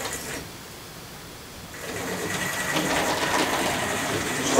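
A Ginty model railway locomotive whirs along the track, with a quiet pause before a steady mechanical buzz and clatter builds and holds, running close by with a slight wobble.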